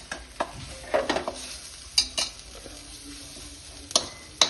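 Squid frying in a pan with Kashmiri chili and coriander: a soft continuous sizzle under repeated clattering scrapes of a utensil stirring against the pan, with no talking.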